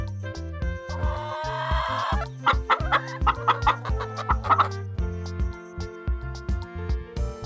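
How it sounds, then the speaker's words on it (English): A chicken clucks in a quick run of short, close, sharp calls over a steady bed of background music. "Chicken."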